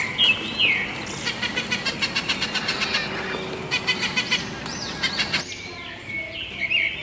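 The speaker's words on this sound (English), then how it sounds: "P for parrot." A parrot squawks and chatters in close, loud bursts, with rapid repeated chirps in clusters broken by brief pauses and a few shrill whistling calls.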